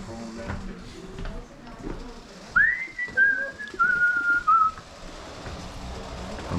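A person whistles a short tune at a garage sale, a few clear sliding and held notes over quiet background murmur and handling noise.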